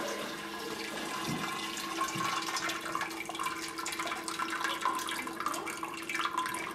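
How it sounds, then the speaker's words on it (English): Simmered vegetable broth is strained off into a kitchen sink as a continuous, close rush of pouring water splashes and gurgles for several seconds, steady and fairly loud with no talking. "And strain it off, and I put it right in the sink."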